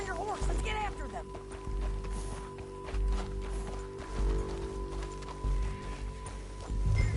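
Galloping horse hooves pound steadily in Red Dead Redemption 2, a continuous low thudding rhythm under in-game talk and a sustained musical score.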